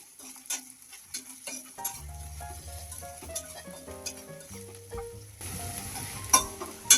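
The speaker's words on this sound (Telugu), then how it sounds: "కాలీఫ్లవర్ దాంట్లో వేగించాలి. వేగి వరకు కూడా మనం స్పూన్తో గరిటతో అటు ఇటు" Cauliflower fries in a hot pan for a broken-rice upma while a spatula stirs it back and forth: a crackling sizzle with scraping strokes, soon overlaid by background music.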